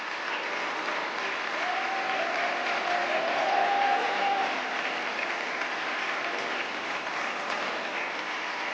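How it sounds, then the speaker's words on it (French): A TV game show studio audience claps warmly in a sustained, even round of applause, with a faint tonal note briefly audible beneath the clapping partway through. "Je voudrais vraiment qu'on les applaudisse fort."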